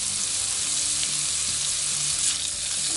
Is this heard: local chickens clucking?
no